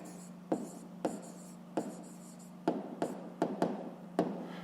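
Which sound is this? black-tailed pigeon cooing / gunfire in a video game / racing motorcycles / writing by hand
writing by hand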